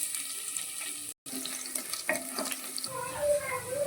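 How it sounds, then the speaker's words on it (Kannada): Garlic sizzles in a kadai as paneer chilli is started, a moderate crackling fry with light clatter. A short silent gap falls early on, and no one talks. "ಇವಾಗ ಇದೇ ಕಡಾಯಿಗೆ ನಾನು ಕಟ್ ಮಾಡಿಕೊಳ್ಳೋ ತರಕಾರಿಯನ್ನೆಲ್ಲ ಆ್ಯಡ್ ಮಾಡ್ಕೊಳ್ತಿದ್ದೇನೆ"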